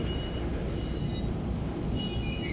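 A Cooperstown & Charlotte Valley Railroad train rolling past with a steady rumble of rail cars and a high, continuous squeal of wheels on the track, loud and close.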